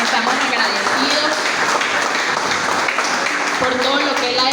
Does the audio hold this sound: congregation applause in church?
yes